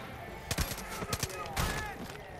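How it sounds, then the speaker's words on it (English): Shotgun fire in Far Cry 5, a few sharp blasts spaced apart amid game noise, with voices murmuring in the background. "I pulled the shotgun out."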